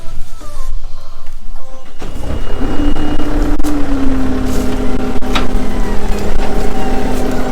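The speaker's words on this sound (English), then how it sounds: "I got my skid steer." A Cat 299D skid steer's diesel engine runs steadily nearby, a loud continuous rumble with a rising hydraulic whine partway through, and no talk.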